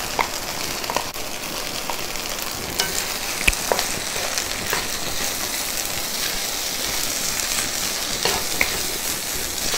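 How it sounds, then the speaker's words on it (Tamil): A steady close sizzle as ground paste is stirred into sautéing vegetables in a pan for a Tamil-style vendakkai kulambu with fenugreek, with occasional light scrapes and taps of the spoon and no voices. "இப்போது இந்த அரைச்சி வச்சதை சேர்த்துட்டு நல்லா வாசனை வர மாதிரி ஒரு தடவை கலந்து விட்டுக்கலாம்"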